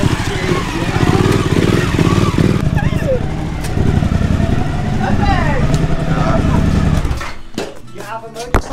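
A Kawasaki cafe racer motorcycle engine runs steadily at close range under overlapping conversation, then cuts out near the end, leaving scattered voices and clatter.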